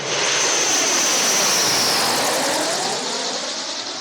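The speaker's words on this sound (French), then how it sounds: "Un baroud d'honneur du Transal, passant au-dessus des officiels venus lui rendre un dernier hommage." A Transall military transport aircraft making a farewell low pass over officials at a ceremony, a loud, steady engine roar sweeping overhead and slowly fading.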